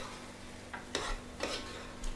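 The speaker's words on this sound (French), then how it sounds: "Attends, et je remue comme ça, je mélange." Rougail boudin stirred in a cooking pot, a faint background sizzle broken by three or four brief scraping strokes of the spoon, quiet and close with no talking.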